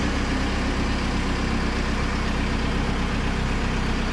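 A VW T25/T3 van fitted with a TDI diesel engine runs on a dynamometer, giving a loud, steady, dense engine drone that holds constant throughout with no talk.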